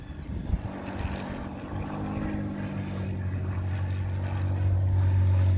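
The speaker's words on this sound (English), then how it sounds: "this airplane keeps circling" A propeller airplane circles overhead outdoors, its steady engine drone growing louder toward the end, with rustling and faint background noise beneath.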